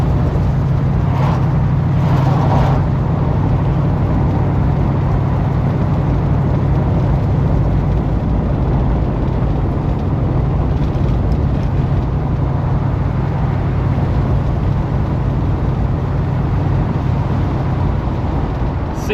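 A Pontiac Grand LeMans, underpowered and needing timing and carburetor work, drives along with a steady low engine drone and road rumble that stays continuous and fairly loud throughout.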